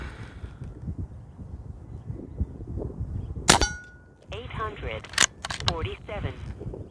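Aselkon MX5 .22 air rifle fired at a target, two sharp cracks a couple of seconds apart, each followed by a short metallic ring, with someone talking around them.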